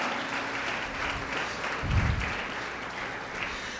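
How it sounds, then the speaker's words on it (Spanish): A church congregation applauds steadily and fairly loudly, a dense wash of hand claps that swells briefly midway, with no talking over it. "Dale fuerte palmas a Jehová."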